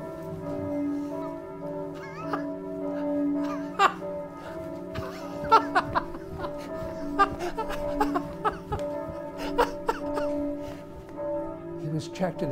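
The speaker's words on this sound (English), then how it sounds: "the church bells ringing out the lustiest peals he had ever heard" Resonant church bells peal with sustained ringing tones, layered with scattered bright strikes and children's voices and giggles mixed in.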